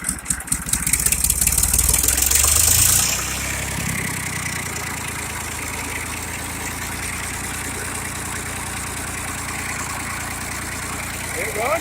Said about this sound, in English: that's a good idle right there.